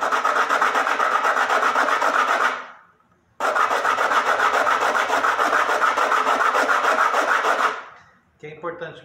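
Sandpaper rubs steadily back and forth against a wooden bridge for a rabeca fiddle, a loud, close rasping stroke pattern that runs in two long stretches with a short pause between.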